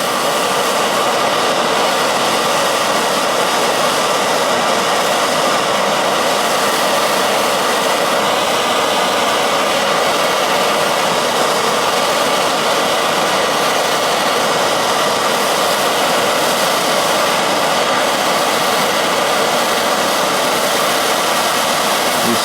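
Torch flame heating a copper pipe joint being sweated onto a water pressure regulator: a constant, loud roaring hiss that holds steady without a break for the whole stretch, no talking.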